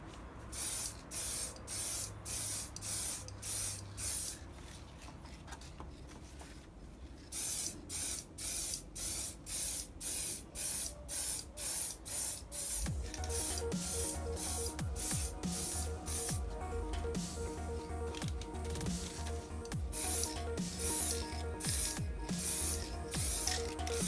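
Short repeated bursts of aerosol spray paint hiss from a can held about 20–25 cm from a Lexan RC car body, in crossing passes, rhythmic close spritzes separated by brief gaps, with denser, rattling bursts later and no talk.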